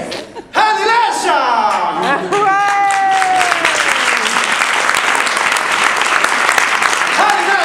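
A crowd applauding at a political meeting, loud sustained clapping and cheering with voices shouting and chanting over it near the start, continuing strongly to the end.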